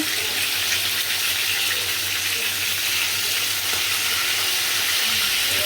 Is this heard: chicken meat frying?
yes